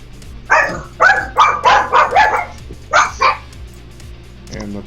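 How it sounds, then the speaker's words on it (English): Several dogs bark excitedly in a quick run of loud, close barks, then a short pause and two more barks, with a faint low electronic background beneath. "And the dogs go nuts."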